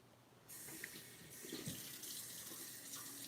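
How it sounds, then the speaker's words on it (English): Tap water runs steadily into a jar being rinsed in a sink, with a soft continuous splash that changes a little as the jar moves under the stream, heard alone and fairly quiet. "I'm going to rinse that jar out for somebody"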